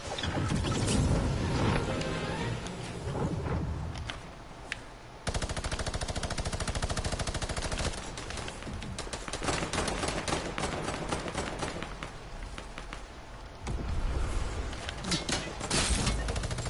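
Gunfire in Fortnite, a busy stretch of mechanical shots and clattering game effects that runs steadily and loud throughout, with a short drop near the middle before it picks back up.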